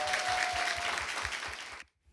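Audience applause at a crowdfunding pitch event for social economy companies, following a company's presentation; dense steady clapping that cuts off abruptly near the end.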